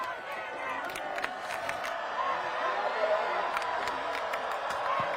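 A raucous crowd at a high school football game between Nantucket and Martha's Vineyard, a distant, steady murmur of stands with scattered shouts and cheers beneath an announcer's voice.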